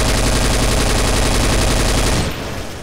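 Rapid automatic gunfire in the video game Counter-Strike: Source on the de_nuke map during a 4v4 match, a loud, dense, continuous volley that cuts off abruptly near the end.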